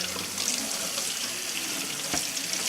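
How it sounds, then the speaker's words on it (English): Hot water runs from a kitchen tap over a Pro Smart Slicer being rinsed, a steady close splashing hiss with one brief clunk partway through. "Just a quick rinse in hot water"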